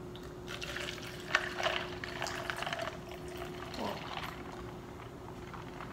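Coffee is mixed with water at a kitchen counter: soft pouring and stirring sloshes, faint and close, over a steady low hum.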